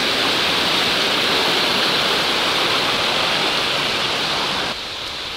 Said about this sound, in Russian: после дождя эти водопады выглядят вообще внушительно